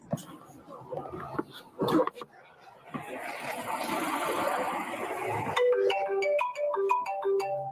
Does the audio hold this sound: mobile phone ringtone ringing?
yes